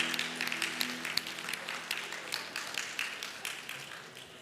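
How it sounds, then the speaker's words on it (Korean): A church congregation at a Sunday worship service applauds in a steady wash of clapping with sharp individual claps, gradually tapering off. Faint organ or keyboard tones sit underneath early on. "우리 한번 큰 박수로 축복하고 내려가시면 감사합니다"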